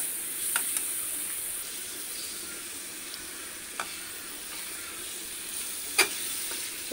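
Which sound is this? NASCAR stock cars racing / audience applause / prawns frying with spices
prawns frying with spices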